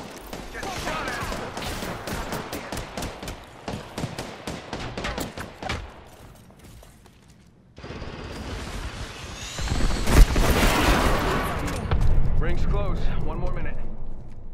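Gunfire in an Apex Legends match, rapid strings of shots in the first half, then a louder chaotic stretch of firing and impacts, with a voice talking over the game.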